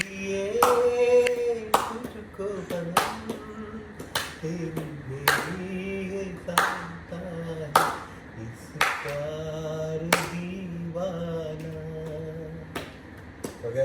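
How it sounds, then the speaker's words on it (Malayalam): Soft scattered hand claps at a birthday party, a dozen or so light claps in an uneven rhythm, with a person singing over them. "കൈയടിച്ചോ പതുക്കെ."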